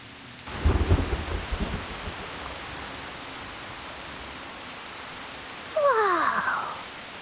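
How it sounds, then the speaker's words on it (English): In the video game Reverse: 1999, a low rumble of thunder rolls under steady heavy rain hiss, followed by a sharp sweeping crack of thunder near the end. "What a heavy rain outside!"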